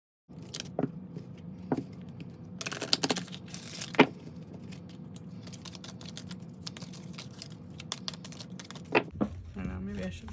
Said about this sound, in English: I'm never really prone to shuffling this way, but sometimes the cards are just so big.